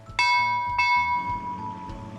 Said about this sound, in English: all I need to do is ring this bell, and a boat's going to appear to take me